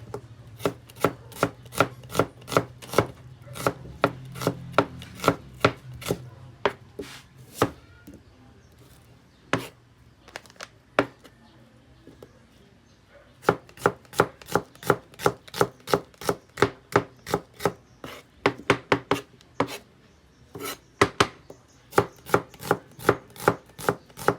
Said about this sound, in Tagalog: Tapos yung sibuyas, pahaba lang ang pag-slice.